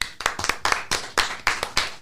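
A small group claps briefly and close by, giving a handful of sharp, irregular hand claps in a quick burst.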